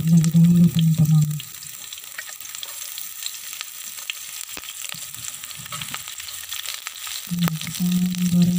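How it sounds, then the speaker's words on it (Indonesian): Onions sizzle loudly as they fry in hot oil, quieting to a faint hiss in the middle before the crackling sizzle surges back near the end. "kita menggorengnya sampai keluar aroma yang luar biasa dari bawang ini"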